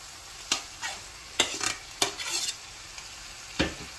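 Fried mussels being stirred into sizzling spiced masala in a pan, with a spoon scraping and clinking in several irregular strokes over a steady close frying hiss.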